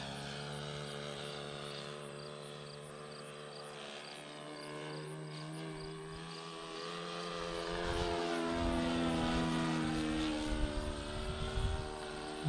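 A Sig Kadet Senior RC model airplane flying with a propeller engine, a steady buzzing drone that grows louder and shifts pitch as it passes overhead, heard outdoors without speech.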